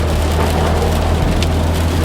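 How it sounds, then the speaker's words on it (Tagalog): Steady roar of strong wind and rain outdoors during a sandstorm, loud and continuous broadband rush with no talking. "Yung malakas na hangin, malakas na ulan."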